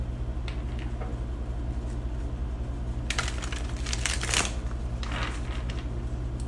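Tarot cards being shuffled by hand, a dry riffling and flicking in short bursts that grow busier toward the end, close and fairly soft over a steady low hum.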